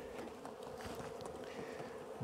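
Honeybees buzz densely at close range while a spring hive is opened for inspection, a steady swarming hum with individual bees droning past.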